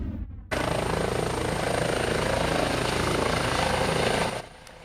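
A medical helicopter flies by from an accident scene in Belmont County, its steady rotor and engine roar loud and continuous for about four seconds before cutting off.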